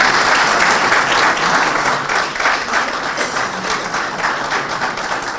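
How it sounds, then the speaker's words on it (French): An audience at a broadcast event on taxation and development claps in sustained, dense applause, loud and even throughout with no break. "Lengo Diandinga, que je vous demande d'applaudir."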